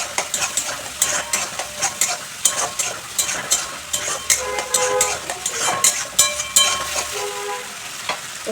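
Mustard paste and spices fry in a pan while being stirred, soft sizzling under a run of repeated scraping and clinking strokes from the spoon, steady and close with no talk.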